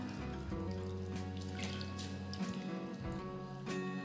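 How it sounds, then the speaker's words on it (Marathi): Grated sweet potato being washed in water in a kitchen vessel, soft splashing and trickling with small drips, close and quiet, with a faint steady hum underneath. "आता आपण पाण्याने स्वच्छ धुवून घेऊ किस"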